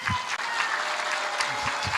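An audience at an outdoor rally claps steadily in a continuous, moderately loud patter of applause, with a few low thumps mixed in.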